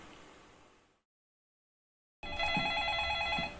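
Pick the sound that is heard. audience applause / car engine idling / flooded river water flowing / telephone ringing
telephone ringing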